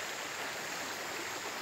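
A very shallow little creek at a campsite flows with a steady, even rushing and babbling of water, close and continuous with no voices.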